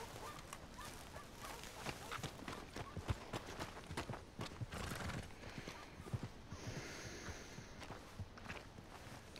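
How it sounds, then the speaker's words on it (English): Horses plod along in the Red Dead Redemption 2 video game, a dense clatter of hooves with a faint whinny and distant goose-like honks, steady and quiet in the background. "I don't know why these horses are following me."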